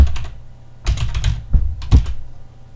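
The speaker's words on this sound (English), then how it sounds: "And I'm just double clicking on these fields" A computer mouse clicks on fields, several sharp clicks in small clusters, close and crisp with quiet gaps between them.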